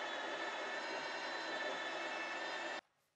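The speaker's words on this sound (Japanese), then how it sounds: "なんで走行中はエンジン音結構うるさいんで、このヘッドセットをつけていただいて。" A steady, loud engine roar fills the cabin of an Aston Martin while driving, holding evenly for almost three seconds before cutting off abruptly into near silence.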